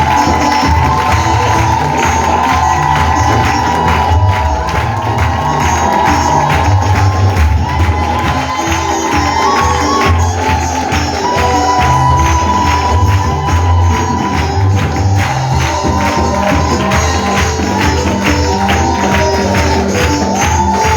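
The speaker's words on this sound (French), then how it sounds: "je voudrais que tu donnes vraiment des acclamations dignes." A church congregation cheers and acclaims loudly and steadily, a dense crowd roar with shouts and whoops that holds at full strength for about twenty seconds.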